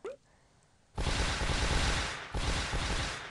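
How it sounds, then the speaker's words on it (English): Rockets blasting in the mobile puzzle game Toon Blast, a dense loud burst of explosions that starts abruptly after a quiet moment and rumbles on continuously, with a brief dip and a renewed surge. "Look at all those rockets blast!"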